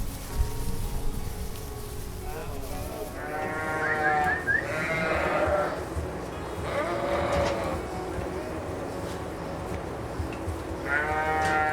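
Sheep bleat repeatedly on an Ontario farm, several loud wavering calls close by over a steady background of livestock noise.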